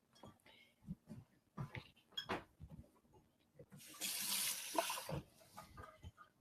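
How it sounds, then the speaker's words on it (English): Water streams from a tap into a salad dressing measuring container for about a second, a close hissing pour amid clinks and light kitchen handling, with brief talk around it. "Now we're going to add our water."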